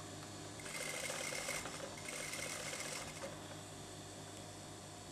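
Sewing machine stitching the collar of an office dress, two brief bursts of steady mechanical whirring a second apart, close and quiet, with no talk.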